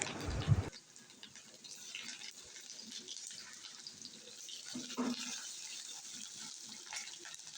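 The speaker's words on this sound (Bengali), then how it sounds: "এখন আমি দিয়ে দিব গরম তেলের মধ্যে পেঁয়াজ কুচি" Chopped onion dropped into hot oil gives a sudden splash, then a steady, faint, continuous sizzling hiss from a nearby pan.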